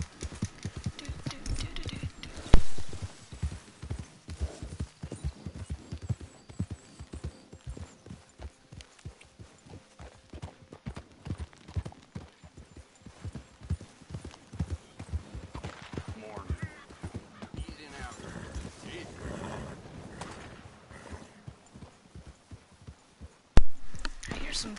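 Rhythmic hoofbeats from a horse in the video game Red Dead Redemption, clip-clopping steadily throughout, with low thudding steps and some background noise, a sharp louder hit near the end.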